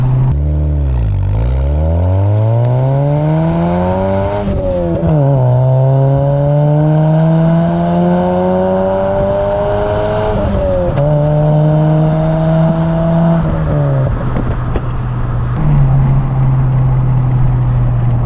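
A Fiat Seicento project car with a modified exhaust revs loudly and close by. The engine climbs and drops through several long pulls, its buzzy note rising in pitch before falling back to idle.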